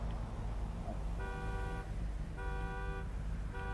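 Repeated car horn honks inside GTA V during a street-race roleplay on PS4, three sustained blasts at a steady rhythm, each lasting under a second, over constant low engine and background rumble.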